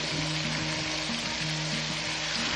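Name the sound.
sautéing eggplant and okra in a pan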